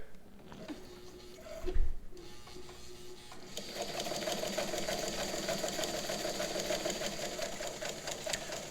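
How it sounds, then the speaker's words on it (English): A mint 1950s White Model 363 sewing machine runs a zigzag stitch at a slow pace, its steady mechanical whir and rhythmic needle ticking starting a few seconds in after quiet handling noises, close and continuous. "And I can sew at a slow pace like I'm doing here, or I can speed things up"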